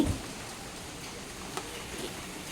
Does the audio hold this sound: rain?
yes